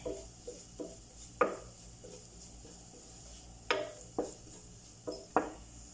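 Cornflour being stirred in a pan with onions, a spoon or spatula scraping and tapping the pan in scattered clinks and knocks, close and fairly quiet, with no talk.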